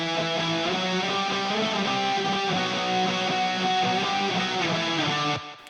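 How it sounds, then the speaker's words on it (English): A distorted punk electric guitar run through a pedal and amp simulation with an eighth-note echo added in Logic, a thick continuous strummed roar with repeating trails, loud and close, fading at the end, no talking. "so I decided to add an echo, so an 8-note echo here."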